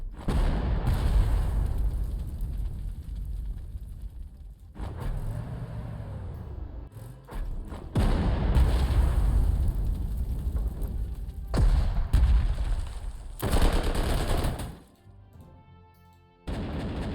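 Artillery bombardment in Panzer Corps 2, a series of heavy, sustained booming blasts that rumble through low frequencies, broken by brief lulls, loud and without talk.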